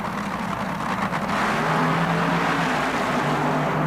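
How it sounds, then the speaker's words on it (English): Plymouth drag racing cars in a semifinal at the 1977 NHRA World Finals, a loud sustained engine roar that holds steady and grows fuller after the first second, with no talk over it. "The Snake coiled a strike in his Plymouth against another Plymouth driven by Jim Adolph."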